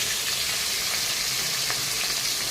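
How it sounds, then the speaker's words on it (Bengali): Pieces of catla fish fry in a pan of oil, giving a dense, even sizzling hiss that stays loud and unbroken throughout. "আমি কাতলা মাছটাকে ভেজে নেব।"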